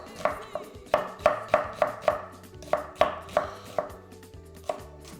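Onions chopped with a knife on a board, roughly a dozen crisp, close cuts in an uneven rhythm, each a sharp tap with a short thud, fairly quiet and with no talking.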